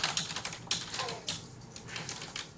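Rapid, clattering keystrokes on a computer keyboard from a loud typist, a close, uneven run of sharp clicks with no voices.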